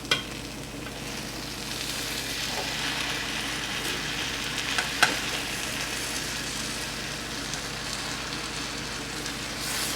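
Cuban arroz con pollo rice being stirred in a pot, with a steady soft sizzle and scraping throughout and a couple of brief louder scrapes near the start and middle.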